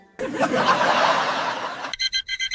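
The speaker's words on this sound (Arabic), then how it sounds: "هادو غير المنبهات ديالي، حط 6 باش ما نفوتش السحور" A burst of broad noise gives way to rapid, repeated electronic alarm-clock ringing in short pulses, loud and close.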